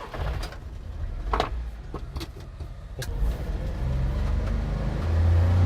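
A Suzuki Carry 660 kei truck drives off, its small engine humming and building in pitch as it accelerates, with a few knocks and clunks from inside the cab early on.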